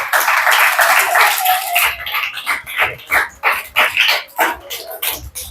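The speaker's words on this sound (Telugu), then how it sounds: "మరి కొట్టు చప్పట్లు." Children clap along at a Sunday school magic show, a burst of dense applause at first that thins into scattered, rhythmic claps, loud and close throughout.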